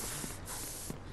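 Blue spray used in Resident Evil Resistance, a short steady hiss lasting about a second with two faint soft bursts, close and fairly quiet.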